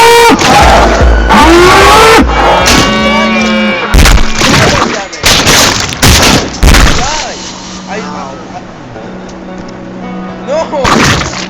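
Rapid video-game gunfire in a horror shooter set in a house of mutated farm animals: several loud, punchy bursts and booms crowd the first seven seconds, with players talking excitedly throughout and a final shot near the end.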